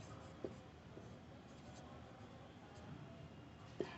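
A pen scratches steadily across paper during a Hindi-medium Class 10 trigonometry lesson, faint and continuous with a couple of light taps.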